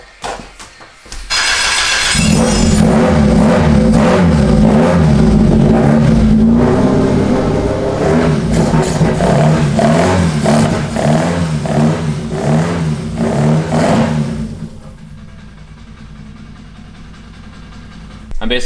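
A Toyota AE86 with a swapped 3SGE Beams engine running and revving, loud, rough engine roar with repeated rising and falling revs over about twelve seconds, then settling to a quieter idle as a brief voice is heard.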